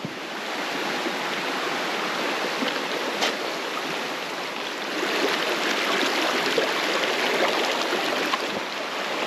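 A mountain stream in New Hampshire's White Mountains, swollen after rain, rushes loudly and continuously with a dense broadband hiss, steady from start to finish and close by.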